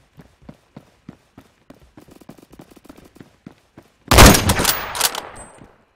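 A loud burst of sniper rifle fire in a Roblox shooter game hits abruptly after a run of soft, evenly spaced footstep taps, then rings out and decays over about a second.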